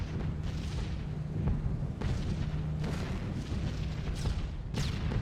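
Anti-aircraft flak bursting in a flight simulator game, a run of several muffled booms spaced about a second apart over a constant low engine drone, with no talking.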